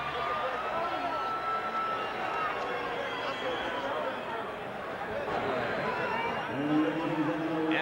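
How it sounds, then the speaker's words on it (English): Boxing arena crowd after a TKO win announcement, a steady dense hubbub of murmuring and mixed cheers and jeers from many people, continuous and fairly distant throughout. "a mixed response in the crowd as they listen to the particulars from Buffer"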